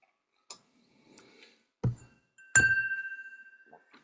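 Glasses clink together in a toast: a few sharp chinks, with the last strike ringing on in a clear, sustained tone that slowly fades.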